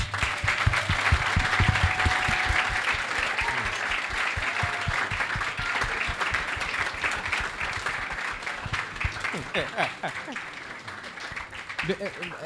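Sustained, dense audience applause at a fireside chat on public policy and national development, steady throughout with a voice speaking over part of it and some murmuring toward the end.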